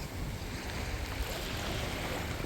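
Sea waves at a beach campsite give a steady broadband wash and rumble mixed with wind buffeting the microphone, continuous and fairly close with no voices.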